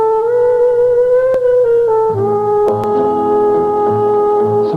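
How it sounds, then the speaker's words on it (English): A ship's foghorn moans from far off in steady, sustained tones that shift pitch partway through, carried as an old radio-tape sound with nothing else over it. "the far-off moan of a ship's foghorn as it calls out in a blindness"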